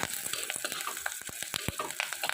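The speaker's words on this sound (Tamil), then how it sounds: "வெங்காயம் நல்லா வதங்கினாதான் வாசமாக இருக்கும் மசாலா" Onions crackle and sizzle steadily in a clay pot, with dense popping and spitting over a constant hiss, close up and fairly quiet, no voices.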